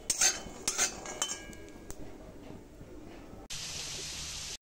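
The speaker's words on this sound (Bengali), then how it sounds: "বাদামগুলো ভেজে নিচ্ছি।" Peanuts frying in a pan, with a few metallic clinks and rattles of stirring at the start, then a sudden steady hiss of frying that runs to the end.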